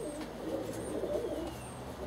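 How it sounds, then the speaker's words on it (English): Racing pigeons in a loft, including a blue cock, give low, soft coos against a steady murmur of roomy background noise, with no talk. "Another of those powerful pigeons"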